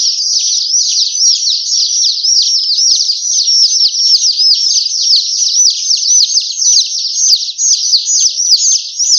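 Small chicks chirp continuously in a dense, rapid chorus of high, overlapping peeps, steady and fairly loud throughout with no talking.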